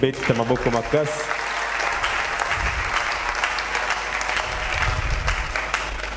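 A church congregation breaks into loud, sustained applause and cheering, dense and close, after a brief burst of music at the start, filling the whole space.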